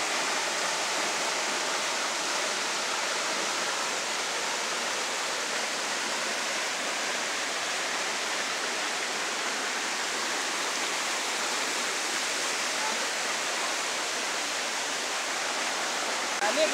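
A waterfall or stream rushes at a steady roar, a dense, even hiss of falling water heard close and unbroken throughout.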